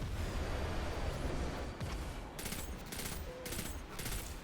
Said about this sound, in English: The goblins shoot solar weapons, which is extremely lethal.